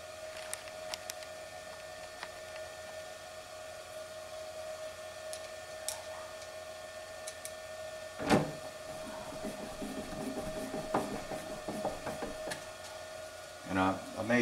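A variable frequency drive run through a drum switch gives a faint, steady electronic whine, with occasional clicks and handling knocks near the end.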